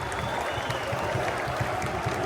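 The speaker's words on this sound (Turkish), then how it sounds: "Taraftarlar takımı alkışlıyor." Fenerbahçe supporters clap for their team inside the stadium after a 1-0 European win over Stuttgart, a dense, loud wall of applause with rhythmic clapping bursts and a murmuring crowd underneath.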